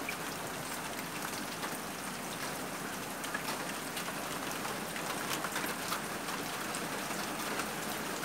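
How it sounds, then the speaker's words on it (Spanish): Steady, dense rain pouring down and pattering on surfaces, a continuous broadband hiss with no voices. "Ahí se viene otra tandita de lluvia fuerte otra vez."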